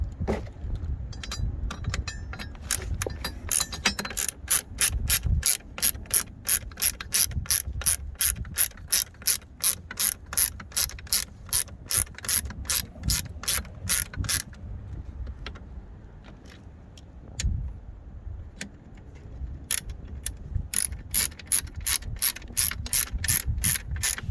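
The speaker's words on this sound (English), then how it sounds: "So we're gonna be using the socket. This is a 1/2" socket or a 13mm." A ratchet drives a 1/2-inch (13 mm) socket on semi-truck seat bolts in a Freightliner Cascadia, giving long runs of rapid close clicking that pause briefly midway and then resume, with no voices.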